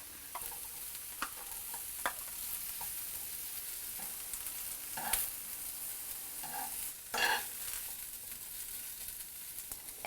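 Ginger browns in a pan with a quiet background sizzle, broken by scattered scrapes and clicks of stirring and a couple of louder knocks near the middle and later on.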